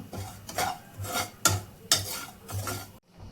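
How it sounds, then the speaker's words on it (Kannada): Semolina for mango sheera dry-roasting in a pan, stirred with regular scraping strokes about every half second that rasp against the metal, close and clear, then stop abruptly. "ಇದು ಸ್ವಲ್ಪ ಕೆಂಪಾಗುವವರೆಗೆ ಚೆನ್ನಾಗಿ ಹುರಿಬೇಕು"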